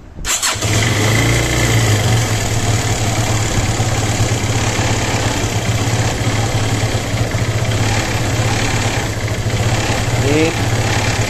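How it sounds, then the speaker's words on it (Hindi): A Hero Honda Karizma R motorcycle with a starting problem and a freshly tuned carburetor fires up at the start, then settles into a loud, steady, close idle that runs throughout. "तो अभी हम बाइक को स्टार्ट करेंगे।"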